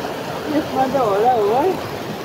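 A river rushes steadily past its bank as a constant wash of water noise, while a person talks over it close by.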